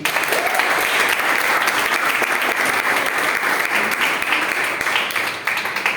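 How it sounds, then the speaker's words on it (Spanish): A church congregation breaks into loud, sustained applause, dense clapping filling the space for several seconds before tapering slightly at the end. "Denle un aplauso al Señor."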